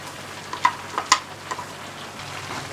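A pot of very spicy Filipino-style sopas soup with cabbage being stirred, a soft steady simmering hiss broken by a few sharp clinks of a spoon against the pot, close and with no talking.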